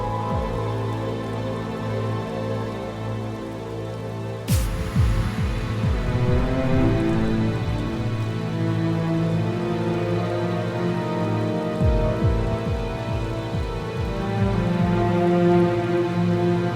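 Heavy rain pours in a dense, steady hiss with scattered splashing drops close by, broken by one sharp crack partway through, with no voices.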